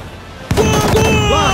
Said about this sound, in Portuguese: Dispara, fogo!